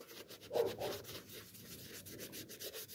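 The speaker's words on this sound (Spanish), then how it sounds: "con la esponja repasan" A sponge is rubbed over a hard rubber shoe base, giving soft repeated scrubbing strokes with a brief firmer rub near the start, quiet and close.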